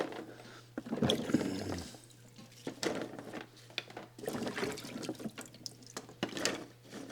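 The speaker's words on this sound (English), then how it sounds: "Pretty simple way of washing cuttings." Water draining and dripping from freshly washed fig cuttings set in a container, with irregular trickles and splashes close by, fairly quiet, and a steady low hum underneath.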